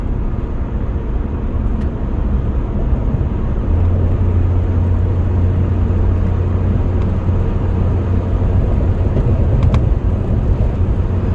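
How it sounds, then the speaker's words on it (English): A 2004 Pontiac Vibe under hard throttle gives a loud, steady engine drone and road rumble heard from inside the car, with a low hum rising partway through and holding to the end. "Now under hard throttle, you know, it's pulling nice and straight."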